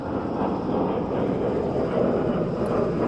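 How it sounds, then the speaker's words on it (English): A steady, broad engine roar of an airplane passing overhead, constant and fairly loud throughout with no talking. "there's an airplane going over me right now."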